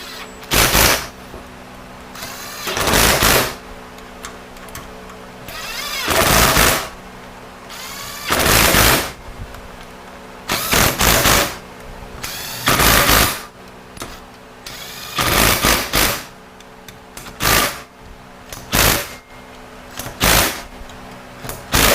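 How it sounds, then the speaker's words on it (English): Impact wrench driving Loctite-coated bolts on a 68RFE transmission plate during a rebuild, heard as about ten loud, separate rattling bursts of a second or so each, spaced by short pauses, with no talking. "These bolts have Loctite, so what I did with the impact wrench, that's plenty for it."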